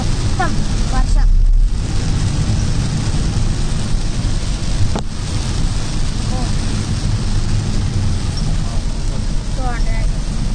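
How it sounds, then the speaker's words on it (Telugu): Heavy monsoon rain drums steadily on a car driving through Khammam with the wipers running, a loud, constant wash of noise with a low thunder rumble rolling under it. "మొత్తం వర్షం."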